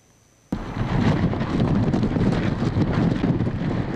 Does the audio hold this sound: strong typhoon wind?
yes